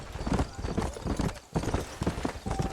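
Horse hooves clip-clop in the video game Red Dead Redemption, a rapid, close, steady gallop rhythm with a brief break partway through before the hoofbeats pick up again.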